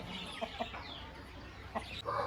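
A rooster clucks a few short, sharp times nearby, with quiet gaps and faint background noise between the calls.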